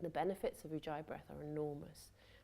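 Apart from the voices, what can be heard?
No distinct noise like a dog, phone or traffic.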